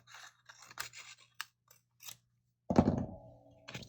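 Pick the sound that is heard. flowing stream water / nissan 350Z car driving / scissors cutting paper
scissors cutting paper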